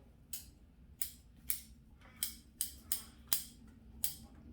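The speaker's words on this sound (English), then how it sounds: "I just want to cut it back enough that it reinvigorates itself" Scissors snip the branches of a bonsai tree during pruning: eight crisp, separate cuts arrive at an irregular pace over a quiet background.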